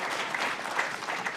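Brief audience applause at an event, a soft scattered patter of clapping heard from a distance.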